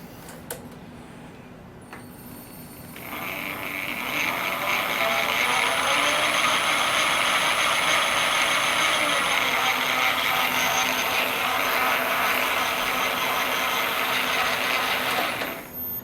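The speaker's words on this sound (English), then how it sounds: "Sounds like change gears, not too bad." Change gears whir steadily on an Emco Super 11 lathe, a loud, even mechanical drone with a high whine that starts after a brief click and runs on for over ten seconds before stopping.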